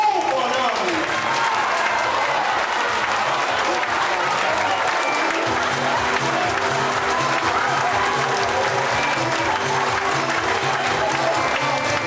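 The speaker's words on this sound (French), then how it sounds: "On commence tout de suite à applaudir." An audience applauding at a live stage show, loud sustained clapping from a large crowd that fills the whole stretch with a steady roar.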